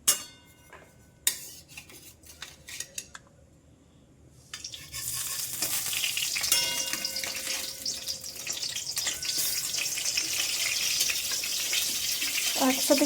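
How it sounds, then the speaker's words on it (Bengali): Eggplant pieces slipped into hot oil in a home kitchen, a few scattered clinks at first, then a steady bright frying hiss that builds and holds, close by and uninterrupted. "তেলটা গরম হয়ে আসুক একটু, বেগুনগুলো দিয়ে দেবো"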